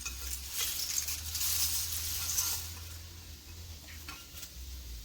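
Flattened rice (avil) mixture with papadam being gently stirred in an uruli, a soft, steady scraping and rustling that swells for a couple of seconds and then eases, close and fairly quiet with no talking.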